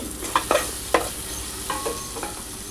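Chopped coriander being stirred into a chicken biryani pot, with a steady sizzle of frying beneath several sharp scrapes of a spoon against the pot, close and fairly loud, with no talking.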